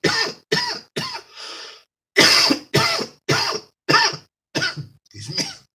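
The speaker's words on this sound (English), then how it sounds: "coughing fit out of nowhere" One person coughs in a sudden fit, about ten sharp close coughs in two clusters with a brief pause between them, some trailing into raspy breaths.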